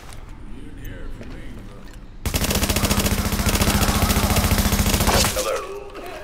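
Sustained automatic gunfire erupts after a quieter stretch, a rapid loud rattle of shots lasting several seconds before cutting off, in Tom Clancy's The Division at Grand Central Station.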